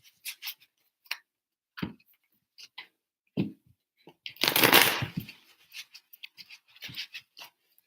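Tarot cards being shuffled by hand: scattered soft clicks and taps, then one dense, rushing riffle of about a second midway, followed by more light card taps. No talking.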